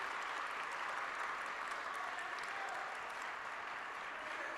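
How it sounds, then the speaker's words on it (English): An awards show audience applauds the presenters with steady, dense clapping that stays loud and even throughout, with no pauses. "Get up so we can applaud you."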